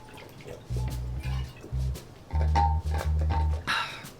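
Someone gulps water from a Yeti bottle: a run of loud, close swallowing bursts in an uneven rhythm, with a short pause in the middle and a slight wet trickle near the end.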